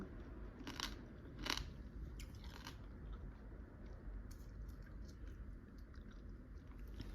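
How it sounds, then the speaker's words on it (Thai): Someone eating a Thai spicy green mango and fresh fermented pork salad bites into a crab claw, producing a few sharp, close cracks and crunches over steady chewing and a constant rustling background. "กัดก้ามปู"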